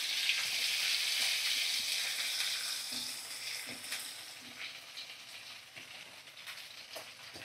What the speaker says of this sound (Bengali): আর দেখো কুচানো পেঁয়াজ আমি এবার দিয়ে দেবো।